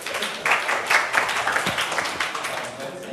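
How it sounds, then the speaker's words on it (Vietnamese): Classroom applause from students in a Vietnamese electronics lesson, dense clapping held steady for about three seconds with a few louder bursts and faint voices mixed in. "Chúng ta cho bạn một tràng pháo tay nhỉ."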